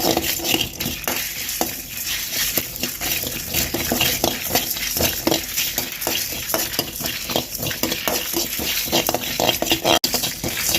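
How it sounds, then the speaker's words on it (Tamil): Dry red chillies, pepper and spices are roasted over medium heat in a pan, giving a continuous close crackling sizzle with frequent stirring and scraping scrapes throughout, no voices present. "நாலு வரமிளகாய் எல்லாத்தையும் போட்டு நல்லா வறுத்து எடுத்துப்போம் மிதமான சூட்லேயே நல்லா பொரித்து எடுக்க போகிறோம்"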